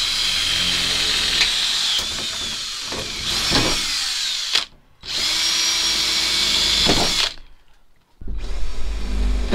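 A power drill bores a pilot hole through a Renault Trafic van panel for a jigsaw blade: loud whining bursts with brief pauses between them, close by and with no talking.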